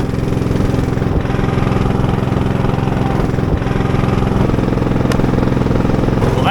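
A narrow boat's motor drones at a steady, unchanging pitch throughout, loud and close, with no voices.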